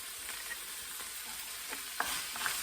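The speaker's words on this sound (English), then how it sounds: "give that a little stir fry." Onions stir-fried in a pan with a wooden spoon, a quiet low sizzle with scattered scraping strokes and a few sharper clicks toward the end, faint and close, no voices.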